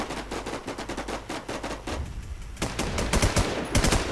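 Gunfire in the WarZ video game, with rapid automatic shots repeating in quick rhythm, then a short pause and a louder, denser volley close by.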